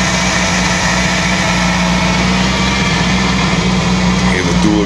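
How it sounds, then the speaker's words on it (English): A drag car engine on slicks with dual exhaust runs close by, a loud, steady throaty drone with a slight rise near the end, filling the whole stretch. "Hear the dual exhaust blowing away."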